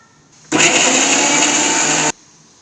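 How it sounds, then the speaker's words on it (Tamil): A mixer grinder whirs loudly at close range for about a second and a half, grinding raw tomato, garlic and dried chillies into chutney, starting and stopping abruptly with quiet before and after. "இதை வந்து நம்ம பச்சையாக மிக்சியில் எடுத்து அரைச்சிக்குவோம்"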